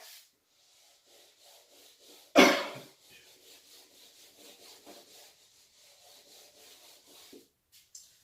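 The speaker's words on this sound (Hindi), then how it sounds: "इस साइड से रब कर रहा हूं मैं" A chalkboard rubbed clean with an eraser during a physics class, a soft rhythmic scrubbing of repeated strokes, with one loud sharp knock early on.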